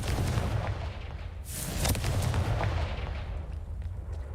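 A booming explosive blast from the Confringo spell in a Harry Potter video game, a loud impact with rumbling low end and a crackling burst, heard alone without talk.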